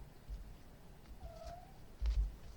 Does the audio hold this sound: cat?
yes